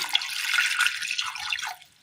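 Water pours into a pan on the stove holding chopped koorka (Chinese potato), a close, continuous splashing rush that stops cleanly after under two seconds.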